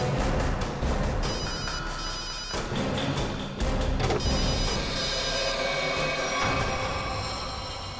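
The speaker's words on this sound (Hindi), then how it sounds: "रिंग तो बज रही है।" A phone rings repeatedly in a busy, noisy setting, its bell-like tones steady across the whole stretch.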